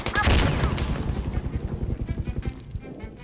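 Gunfire and a grenade blast in the shooter game Insurgency Sandstorm: a loud burst early on, then a long run of rapid, evenly spaced shots that slowly fade and thin out.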